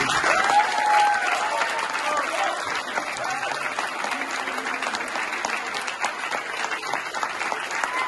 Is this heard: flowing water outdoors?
no